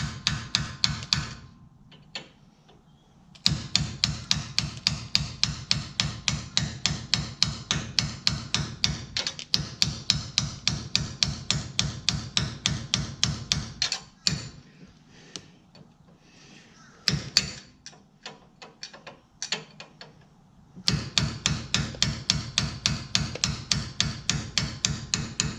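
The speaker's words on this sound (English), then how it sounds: "Use a flat nose punch, not a pointy one." Hammer blows on a flat nose punch while working on the brakes of a 1972 Ford, struck in long rapid runs of sharp metallic taps, pausing briefly between bursts, close and loud.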